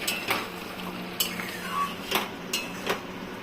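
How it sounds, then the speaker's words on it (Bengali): A spoon scrapes and clinks against a pot while stirring potatoes for paneer biryani with garam masala powder, then the lid goes on. There are several sharp metallic knocks at spaced intervals over a low steady hum. "তো এখন আমি একটু নাড়াচাড়া করে ঢেকে দিব ভালো করে।"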